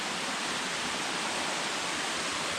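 Waterfall flowing into the base of another fall near an ice cave trail, a steady broadband roar of rushing water, loud and close, continuous throughout with no voices.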